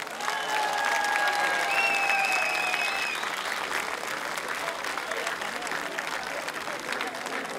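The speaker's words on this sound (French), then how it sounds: "un grand applaudissement à mes fournisseurs" An audience applauds suppliers at a town inauguration in France, a steady wash of clapping that holds through the whole stretch, with whistle-like tones and voices mixed in over the top.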